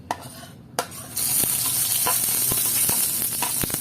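Garlic hitting hot oil in a pan for Filipino pork adobo, a few sharp taps before a loud, close sizzle erupts and holds steady, dotted with occasional utensil clicks and no voices.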